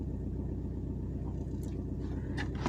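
Engine of a Volkswagen Golf 4 idling steadily after starting, a low continuous rumble heard close inside the car, with a few faint clicks and handling noises near the end.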